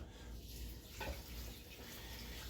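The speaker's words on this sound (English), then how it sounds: "Okay, so for the chicken stock, we're going to go in with 8 cups." Chicken stock, eight cups' worth, poured into a pot for ham lentil soup, a steady splashing stream that runs on for a couple of seconds with a brief stronger gush partway through, close and fairly quiet.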